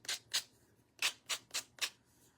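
Sandpaper rubs across small wooden pieces from a quilt block kit in six short, brisk strokes, close and fairly quiet, with brief pauses between them and no talk.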